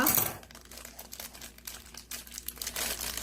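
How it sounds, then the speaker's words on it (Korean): A candy necklace wrapper is cut and torn open with scissors, giving close, faint crinkling and rustling plastic bursts that come and go irregularly, with no talk. "먼저 가위로 여기를 뜯어보도록 하겠습니다"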